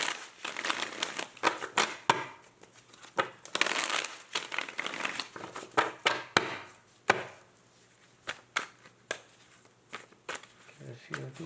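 Rapid riffle shuffling of a deck of tarot cards, repeated in quick bursts of crisp flutters and taps, close up, with a brief voice underneath.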